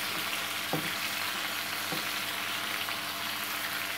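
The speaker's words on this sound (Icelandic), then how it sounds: "Og steikjum svo sveppin á sömu könnu." Mushrooms frying in a pan on a home cooking show give a steady, dense sizzle throughout, with two faint utensil taps early on and no talking.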